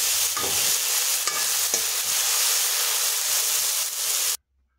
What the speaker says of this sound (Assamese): মোৰ পাচলিখিনি ভজা হৈ গ'ল।